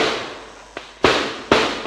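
Firecrackers bursting in three sharp, loud bangs, a smaller pop followed by two strong blasts, each trailing off into a fading broadband hiss, with no talk over them.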